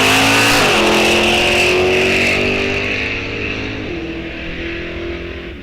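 Junior street cars at Rock Falls Raceway roar loudly close by, engines revving with shifting pitch, then the sound eases and fades slightly as they move off.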